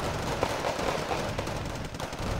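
Dense, continuous gunfire from tanks firing at a Leclerc in a tank battle video game, a steady rattle of rapid shots and impacts layered into a loud, unbroken wash of battle noise.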